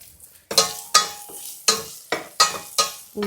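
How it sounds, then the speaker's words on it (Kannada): Raisins and cashews frying in hot ghee in a pan, in sharp bursts of sizzle and spatter recurring about every half second as the pan is stirred, close and fairly loud. "ದ್ರಾಕ್ಷಿ ಗೋಡಂಬಿ ಹಾಕಿ ಫ್ರೈ ಮಾಡ್ತಾಯಿದ್ದೀನಿ"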